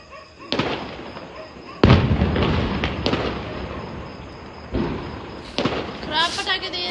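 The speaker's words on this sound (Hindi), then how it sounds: "हम सारे फटाके ले आए पर फूलझड़ी लाना भूल गए." Diwali firecrackers go off outdoors in a few sharp, loud bangs spaced seconds apart, each followed by crackling debris, with excited voices talking between and over the blasts.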